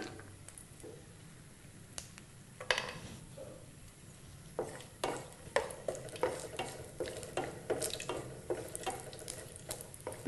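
Cashew pieces fry quietly in oil for a potato korma, giving a faint sizzle under repeated stirring scrapes and clinks that grow busier toward the end.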